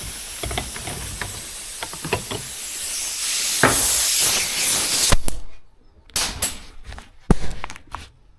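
Spray gun laying dark gray sealer onto a custom speedster, a steady broad hiss for about five seconds, then a few short bursts with gaps and knocks between them.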